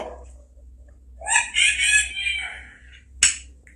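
A rooster crows once, loud and close, its call rising and trailing off, followed by a short sharp squawk near the end.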